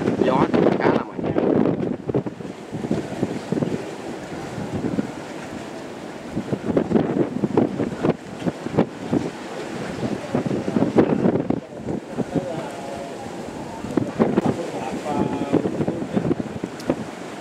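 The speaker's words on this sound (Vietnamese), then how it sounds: "Trời thì đang mưa lắc nhắc nha. Gió khá là mạnh." A small boat runs through rough seas in a storm with light rain, strong wind gusting against the microphone and engine rumble beneath, waves slapping as it heads toward shore, with someone talking intermittently over the noise.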